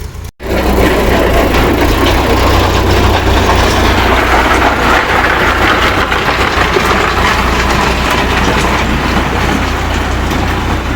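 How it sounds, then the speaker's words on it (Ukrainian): A loud, steady tractor engine rumbles continuously at close range as the tractor turns around, running without pause after a brief click at the start. "Ось так розгортає трактор."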